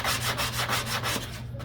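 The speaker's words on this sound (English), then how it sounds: "Couple minutes sanding." Filler patched into a cut-out blister on a fiberglass hull being hand-sanded, a steady close rasping rub with rhythmic back-and-forth strokes, fading toward the end.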